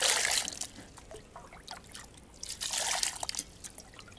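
Icy water trickles and splashes as vegetables are rinsed in an earthen dugout, faint and uneven, with louder bursts at the start and again near the end and no voices.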